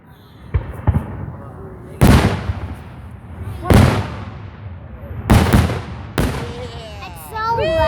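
Fireworks burst close by in a series of loud booming explosions, about five big blasts spaced a second or two apart with crackling decays, while a person talks and exclaims between them.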